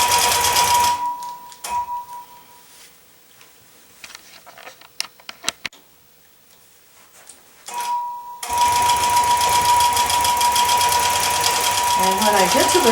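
A longarm sewing machine stitches binding onto a quilt, its fast steady whir starting, stopping for repositioning, then running on loudly and continuously.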